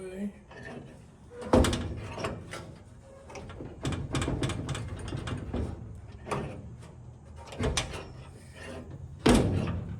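Suicide doors on a Model A rat rod swing shut with several sharp metallic thunks and latch clacks, close and fairly loud, spaced out among handling noises with someone talking nearby.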